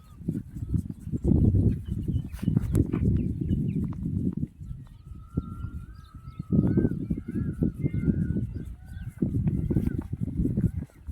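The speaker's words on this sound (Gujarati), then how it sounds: "આમ પક્ષી કિલોર કરતા હોય જો અલગ અલગ પક્ષીનો અવાજ આવતો હોય" Birds chirp and call in short, repeated phrases at a distance in village fields, partly masked by bursts of low rustling and thumping noise outdoors.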